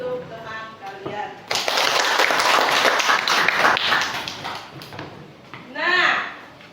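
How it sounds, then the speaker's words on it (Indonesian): A classroom of children claps for a classmate, a sudden burst of dense, close applause that lasts a few seconds and then fades. Voices come before it and a voice comes after. "Baik, tepuk tangan untuk teman kalian."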